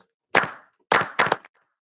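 A clap sample auditioned in a drum production session: three sharp, dry hits, the first standing alone with a short decaying tail, the next two following close together, all clean with silence between.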